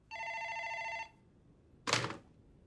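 A telephone bell rings once in a horror film, a bright metallic ring of about a second, followed by quiet and then a single dull thump, with no talking.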